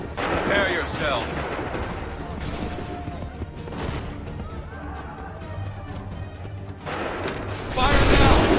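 Musket volleys in the video game Assassin's Creed III, several booming reports with broad noisy bursts at the start and end, mixed under game sound and voices.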